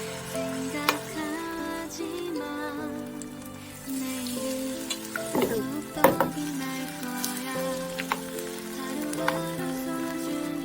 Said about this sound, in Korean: 달군 팬에 기름을 넉넉히 두르고 달래전 반죽을 원하는 크기대로 올려 붙입니다.